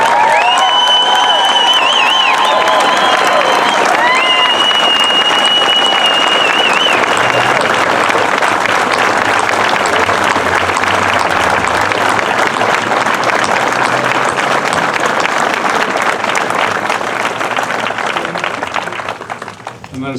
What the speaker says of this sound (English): let us give our all in applause for Flight Number 30